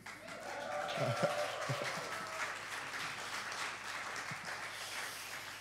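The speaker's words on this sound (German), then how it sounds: "Das ist auch ein Willkommensapplaus für dich, Andi" A church audience gives faint, distant applause as a welcome, a soft steady wash of clapping with a few nearby thumps and voices in the hall.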